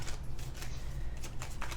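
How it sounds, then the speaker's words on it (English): A deck of tarot cards being shuffled by hand, soft papery riffles and flicks repeating in quick bursts, quiet and close with no talking. "Oh, I have to shuffle the cards first"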